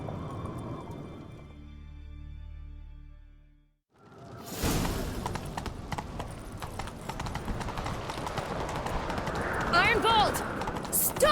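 Horses gallop in a chase in the video game The Witcher 3, their dense rhythmic hoofbeats rising after an opening musical swell, with swooshes and voices talking over the ride.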